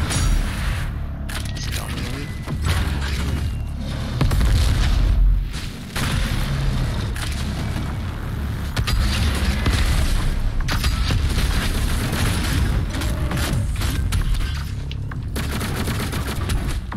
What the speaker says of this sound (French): On pète les canons là-dessus.